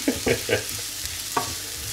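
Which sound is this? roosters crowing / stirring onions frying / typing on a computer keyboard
stirring onions frying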